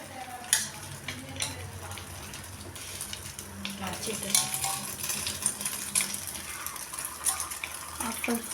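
Egg paniyaram batter is poured into a hot paniyaram pan and sizzles. The soft crackling hiss runs under scattered clinks and light handling noises.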